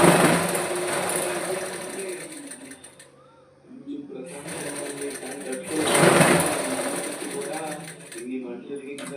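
A sewing machine runs in long continuous bursts while stitching the back panel of a blouse, with a short pause between runs and someone talking over the steady whirring.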